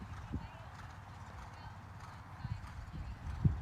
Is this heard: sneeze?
no